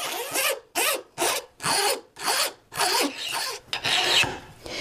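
Hand file rasping a burr off a metal bezel setting tool, about eight rhythmic back-and-forth strokes, close and clear, with short pauses between them and no voices.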